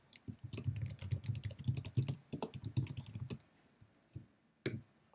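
Fast typing on a computer keyboard while writing TypeScript code, a dense close run of clicking keystrokes for about three seconds, then a pause and a few isolated taps.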